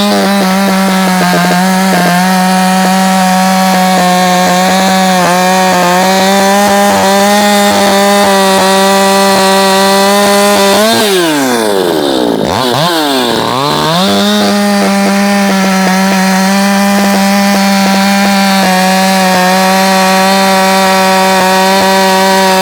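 Ported Shindaiwa 600SX chainsaw cutting wood, loud and close. It holds a steady high-rev scream, dips sharply in pitch midway as it bogs into the cut, then climbs back to full revs.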